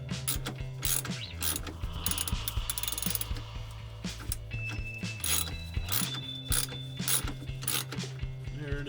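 Ratchet wrench loosening running board bolts on a Dodge Ram 1500, with rapid, continuous metallic clicking of the pawl close by, varying slightly in pace throughout.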